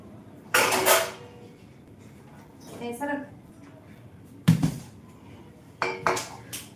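Dishes and pots clatter in a home kitchen during cooking, with sharp clinks and knocks in several short bursts, while people chat in Marathi over and between them.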